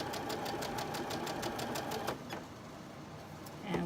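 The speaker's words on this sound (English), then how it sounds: "I'm going to sew on each side of the line." A domestic sewing machine stitches a barn quilt block, running in a steady rapid rhythm for about two seconds, then stopping briefly before a short restart, fairly close and alone.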